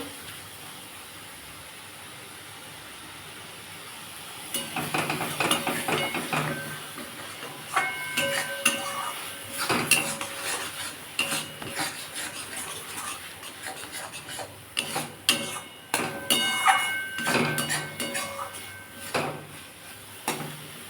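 Ripe drumstick (sajne data) frying in a pan gives a hissing sizzle with repeated clattering scrapes and knocks of a spatula against the pan, busy and close. It starts after a quiet opening.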